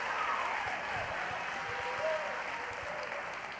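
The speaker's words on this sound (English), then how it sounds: "One more applause one more time for the band." A school fine arts festival audience applauds a band on stage, a steady wash of many hands clapping at even strength for several seconds, with faint crowd voices mixed in.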